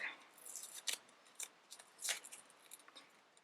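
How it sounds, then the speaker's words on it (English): Tape is peeled off a glass jar decoupaged with rice paper, giving faint, crackly tearing bursts in short irregular spurts, recorded close but quiet. "Let's take this off and see what it looks like. Come on, tape."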